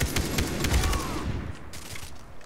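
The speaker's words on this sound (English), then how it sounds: "This gun's really powerful for the silencer." Silenced gunfire in the Far Cry 3 video game during co-op play, with a rapid run of muffled, closely spaced shots filling the first second and a half before trailing off.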